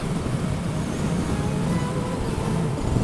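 A 2013 Suzuki Hayabusa cruising in sixth gear at about 4,000 rpm on a freeway, a steady, smooth engine drone blended with dense wind and road rush, constant and close.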